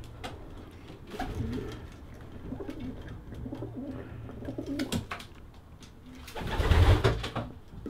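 Pigeons cooing inside a pigeon loft, soft repeated low coos from several birds overlapping throughout, with a louder burst of cooing and wing or movement noise near the end, close and unaccompanied by talk.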